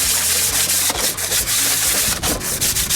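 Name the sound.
sanding engine block with a sanding block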